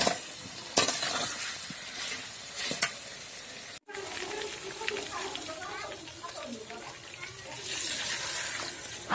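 Half a glass of water is poured into masala chicken frying in a pan in a village home kitchen. A hiss and bubbling follow over the ongoing sizzle, heard close up.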